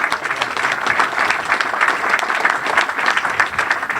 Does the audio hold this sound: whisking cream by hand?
no